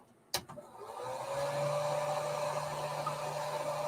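A hair dryer clicks on and runs as a steady, close blowing whir, flash drying fresh paint on fishing lures.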